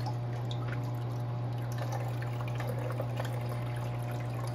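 Water from a pump fills an Eshopps AEO11015 overflow box on a 60-gallon breeder aquarium, giving a steady, close trickling and dripping over a constant low pump hum, with no talking.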